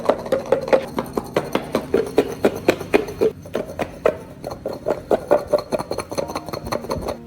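Garlic cloves shaken hard inside a closed jar with the lid on: a rapid, steady run of loud rattling knocks, close and continuous for several seconds.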